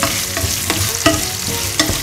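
Okra pieces stir-fry in oil for a tomato masala, a loud close sizzle broken by several distinct spatula scrapes and knocks against the pan at uneven intervals.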